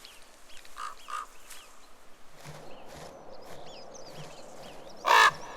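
Ravens caw in an open mountain landscape, with scattered harsh calls near and far over a quiet natural backdrop, ending in one loud, close call.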